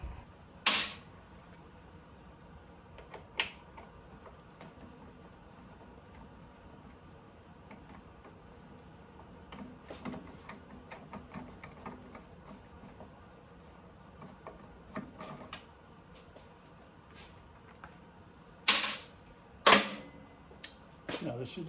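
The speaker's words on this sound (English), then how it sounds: "get these bolts off here" Bolts on a ZX6R motorcycle fuel tank worked loose with a ratchet wrench, sparse clicks and sharp metallic taps scattered over a quiet background, with a few louder clanks near the end and someone talking at times.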